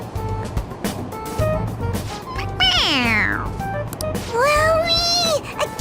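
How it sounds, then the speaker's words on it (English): Stuffed animal toy cat in the Persona 5 Royal video game meows when pressed, giving two clear, fairly loud meows, one falling and one rising, over busy game music and background noise. "It meows when you press on its head."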